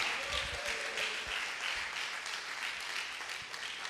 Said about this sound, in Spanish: Vamos, dale un aplauso de agradecimiento a Jesús.